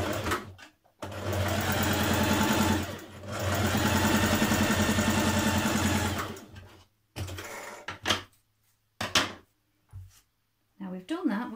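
A home sewing machine stay-stitches around the neck of a shirt dress yoke, running in two steady bursts of rapid mechanical stitching, followed by quieter handling clicks and brief pauses.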